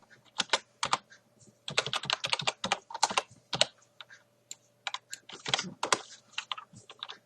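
Rapid keystrokes on a computer keyboard as a Destroy command is typed in the game Rust Legacy, close and clear in irregular bursts with short pauses, with no voices.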